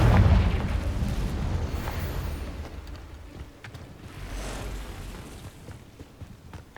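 A Confringo spell explosion in Hogwarts Legacy on PC, a loud opening boom rolling into a long rumbling decay, followed by a second, softer swell of blast noise midway through.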